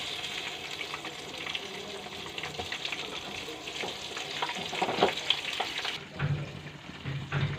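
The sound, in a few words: pointed gourd (potol) frying in oil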